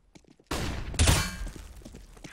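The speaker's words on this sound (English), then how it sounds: "Throwing flashbang." A flashbang grenade thrown in CS:GO on the Cache map during a professional match: a sudden loud burst followed by a sharp, bright bang with a short ringing decay, alone without talk.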